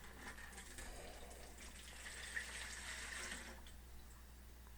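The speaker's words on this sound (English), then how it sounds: "Pour that in there on your salt." Coconut water pours from a freshly cracked coconut onto salt in a container, a soft continuous trickle lasting a few seconds, quiet and alone.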